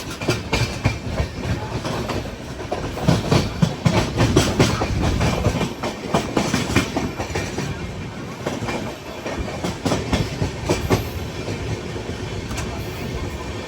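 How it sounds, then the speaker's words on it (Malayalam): Tiruchirappalli–Howrah Express passenger train running, heard from inside a general-class coach on the Chennai to Tiruchirappalli route: steady loud rumble with rhythmic clickety-clack of wheels over rail joints, with faint background voices. "ഇത് തിരുച്ചിറപ്പള്ളി ഹൗഡ എക്സ്പ്രസ് ആണ്"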